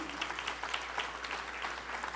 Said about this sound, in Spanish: ¿No le damos un aplauso a Dios por esa bendición tan grande?